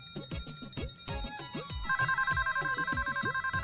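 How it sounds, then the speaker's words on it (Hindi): A phone ringtone chimes loudly in a repeating electronic pattern, joined partway through by a sustained ringing tone pulsing in quick regular beats. "फोन कहाँ है? माँ का फोन आया, आवाज कहाँ से आ रही है?"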